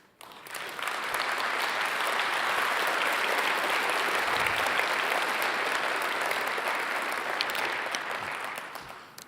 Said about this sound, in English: My script says pause for applause.